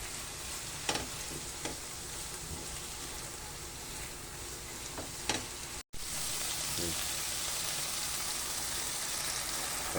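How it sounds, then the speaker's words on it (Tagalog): Tahore, a fermented soybean paste, is sautéed in a pan, giving a steady close sizzle with occasional stirring clicks and scrapes; a brief break partway through, then the hiss returns louder. "Gisang tahore pa lang"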